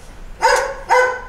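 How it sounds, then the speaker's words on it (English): A neighbor's dogs bark twice, two clear, loud woofs about half a second apart, heard alone. "Sorry guys, neighbor's dogs are going"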